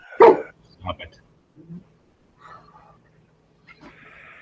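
Dog yelping and making short barking noises in a home setting, a loud first yip followed by several fainter whimpers and squeaks with pauses between, heard alone and close.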